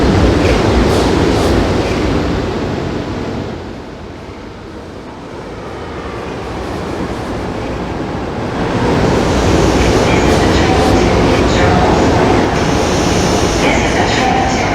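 An Amtrak train rumbles through a station in the Trainz railroad simulation game, a loud continuous roar that dips briefly in the middle and then swells back with faint rhythmic clatter.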